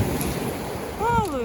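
Winter sea surf rolls and hisses on the shore at Gurzuf, a steady wash of waves with gusty wind noise, a brief higher tone rising near the end.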